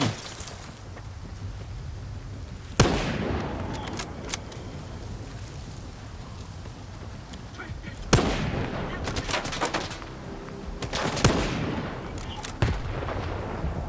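Sniper rifle shots in a video game, several sharp loud cracks spaced seconds apart over steady game background noise.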